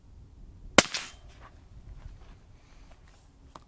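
A single sharp crack from a suppressed subsonic .308 rifle fired into dirt, close and clipped, then quiet rustling and a faint tap afterward.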